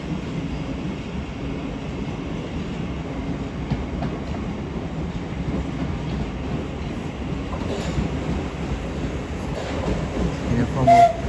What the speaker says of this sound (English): Going to arrive here now will be a terminating Southern service from Euston.